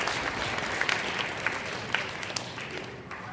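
An audience of parents claps at a high school 8th grade parent night, a dense steady wash of applause throughout with a few sharper claps standing out and a slight fade near the end.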